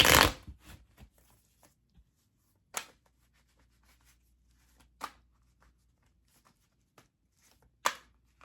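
Tarot cards are shuffled and laid out for a reading, with a burst of riffling at the start followed by sparse, crisp slaps and flicks of cards spaced seconds apart in a quiet room.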